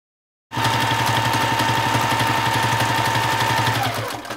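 A sewing machine doing free-motion quilting runs fast and steadily, its rapid needle pulsing as a close, even mechanical whir that starts suddenly and slows slightly just before the end.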